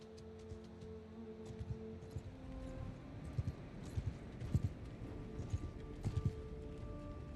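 Horse hooves clip-clop in a steady trotting rhythm during a fantasy strategy game of the Old Realms mod, a faint continuous clatter under low ambient hum and a distant tonal drone.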